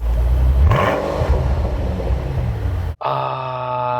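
A loud, deep V12 engine roar from a Mercedes-Benz SL600 open-top car under heavy revving, then a brief break and a steady high-pitched engine tone, close and continuous.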